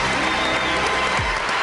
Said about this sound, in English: Well, I applaud you, too.